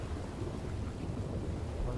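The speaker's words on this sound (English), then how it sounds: "Storm is a little bit too loud." Heavy thunderstorm in Red Dead Redemption 2, with a steady roar of rain and deep rolling thunder rumbling continuously and loudly throughout, with no voices.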